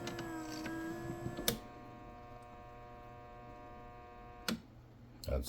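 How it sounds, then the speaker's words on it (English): A Kenmore KKSACM-B super automatic coffee machine dispenses espresso with a steady electric pump hum and buzz. A few clicks and knocks follow before the machine goes quiet and a faint hum lingers. "That's the espresso coming out there."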